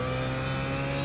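A BMW car engine drones steadily, a close, constant hum with a low tonal buzz and no speech.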